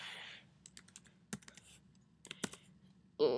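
Keystrokes on a computer keyboard while entering text into a web form, a scattered run of light clicks, several sharper taps, then a brief louder burst at the end, with no voices.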